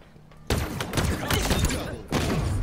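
Heavy gunfire in a Halo Infinite multiplayer match: a sudden loud burst of rapid shots and thuds that keeps going for about a second and a half, pauses briefly, then starts again.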